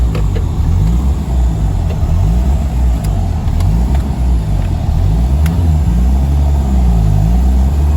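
A Honda Civic fitted with a K20Z1 engine runs during a build, making a loud, steady, close-up engine drone that holds an even rumble throughout with no voices.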